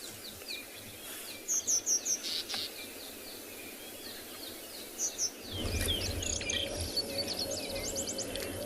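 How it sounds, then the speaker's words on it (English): Several birds chirp and call in quick repeated bursts over a soft outdoor background, some notes nearer and clearer, others faint and distant. "lots of birds calling"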